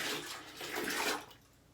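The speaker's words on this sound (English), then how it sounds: "open up the toilet, pour it in there" Hot boiling water poured into a toilet bowl to clear a clog, a steady close splashing gush that swells and then tapers off over about two seconds.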